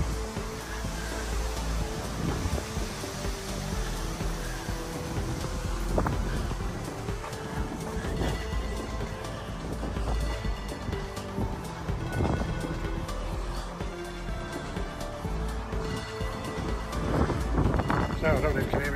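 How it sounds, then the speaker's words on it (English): Outdoor wind buffets the microphone at a smokehouse restaurant in Horbury, Yorkshire, a continuous rumbling gusty roar throughout, with a person talking over it. "I don't know if you can hear me because it's a bit windy out here"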